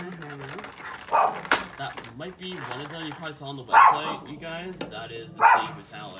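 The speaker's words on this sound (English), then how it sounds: "sorry, that's our puppy acting like crazy" A puppy indoors barks in three loud, spaced bursts, close by and over a person talking steadily throughout.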